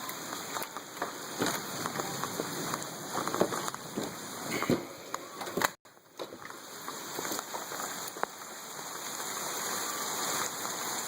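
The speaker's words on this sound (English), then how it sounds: "It is pouring down rain outside." Heavy rain pours down outdoors in a dense, steady hiss with pattering drops striking surfaces, loud and continuous throughout, with one brief dip partway through.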